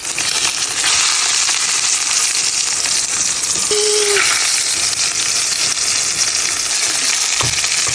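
Snapper fillet sears skin side down in hot oil, a loud, dense, continuous sizzle with a brief faint clink partway through and a small knock near the end, no talking.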